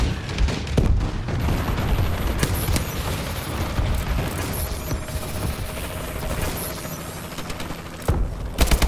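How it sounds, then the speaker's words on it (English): Warbird bombing run in a video game, a dense rumble of explosions, booms and gunfire rolling together at steady loudness, with mechanical clatter and a few sharper blasts near the end. "Friendly bombing run incoming."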